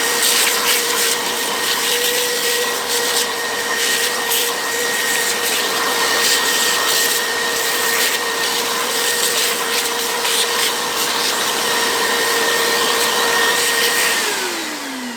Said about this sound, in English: Position 1 for this so that it turns the hoover on directly.